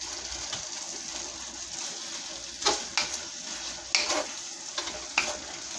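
Broccoli stirred into a thickening sauce in a hot pan, steady soft sizzle with a few louder scraping stirs toward the end, close up and without talk.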